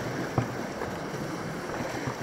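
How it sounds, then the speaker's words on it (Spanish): Rough sea breaking against a rocky shore, a steady roar of surf and wash with faint thumps of waves hitting rock and no voices. "Pero hace mucha mar."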